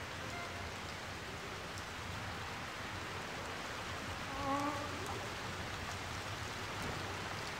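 Steady rain falls in the video game Sky, a soft continuous hiss at low volume, with a brief faint tonal chime partway through.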